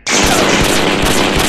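Sniper rifle gunfire in a video game set in a prison: a loud, dense burst of shots filling the short span, with no talking.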